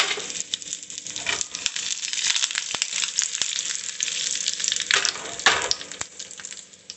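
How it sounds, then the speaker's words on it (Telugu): Tempering spices crackling and sizzling in hot oil in a kadai for pudina chutney, a busy close-up frying hiss with sharp pops and a few louder spatters, with no speech. "నేను పోపు దినుసులు వేసేస్తున్నాను"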